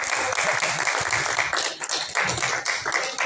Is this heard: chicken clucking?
no